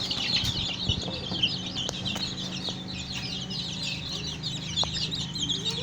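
Young native Nigerian chickens, all hatched at about the same time, cluck and call steadily at close range over a low farmyard hum, with no talk.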